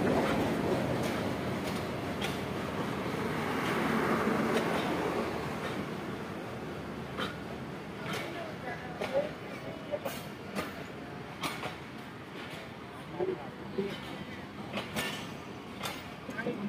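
Interior of a crowded Pakistan Railways passenger train between Haripur Hazara and Rawalpindi, rumbling steadily with a broad, rolling roar and intermittent rattles and clacks from the carriage, swelling early then continuing with scattered sharp knocks under faint background voices.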